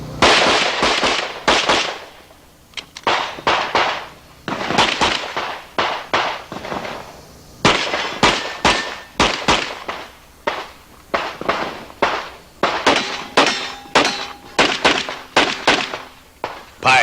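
Rapid pistol shots from a Clark Custom Longslide 1911 Colt at a shooting competition ring out in quick loud clusters over about seventeen seconds, with short gaps between strings and sharp echoing cracks.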